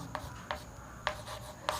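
Writing on a classroom board during a geometry lesson on triangle angles, heard as short scratchy strokes in uneven bursts, close up and fairly quiet with no talking.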